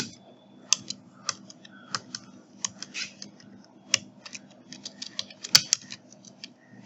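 Computer keyboard typing while entering placeholder text in CorelDRAW for a flyer design: irregular bursts of sharp, close key clicks with occasional louder strokes, no talking.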